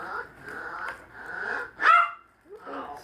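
A dog barks a few times, sharp and fairly close, with a short yip, while a person talks over and between the barks.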